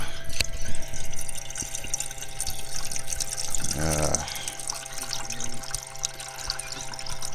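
A tap fed from a water tank above runs at an outdoor camp setup, a steady close splashing and trickle with a brief gurgling surge in the middle and no voices over it.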